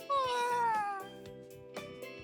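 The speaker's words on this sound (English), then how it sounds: "Latte, who's occupied the larger half of my bed, responds back to me with a lazy meow." Latte the cat lying on a bed lets out a drawn-out, lazy meow, close and clear, with a falling pitch. Soft, brief chirps follow afterward.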